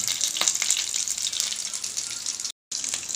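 Paneer pieces sizzle steadily in a hot oiled pan, a close, bright crackle with a few sharper pops, broken by one brief moment of silence near the end.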